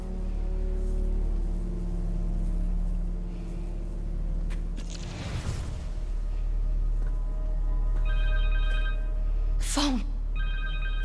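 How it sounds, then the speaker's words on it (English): A cell phone rings in Marvel's Spider-Man 2, a steady repeating electronic ring over the game's low background hum, with a sharp rising effect near the end and no talk. "Connor's cell phone."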